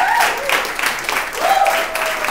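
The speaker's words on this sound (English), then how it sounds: "give yourself a big round of applause" A political rally crowd in Toronto claps in steady, fairly loud applause that swells and dips, with a voice speaking over it at moments.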